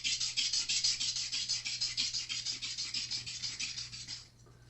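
Metal frets on a Fender Telecaster guitar being leveled with a rasping file or abrasive, a steady series of close, rhythmic scraping strokes that stop just before the end, with a low hum underneath.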